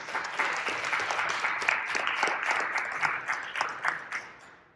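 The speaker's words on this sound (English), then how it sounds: "it's to those people that we want to really extend a round of applause and thank you." A round of applause from an electric vehicle association's general meeting, a full, even burst of clapping from the crowd that fades out near the end.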